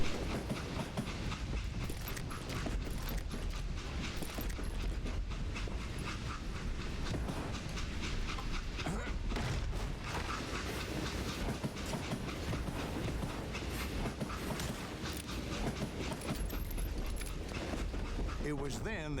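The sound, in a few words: train rolling in Call of Juarez: Gunslinger video game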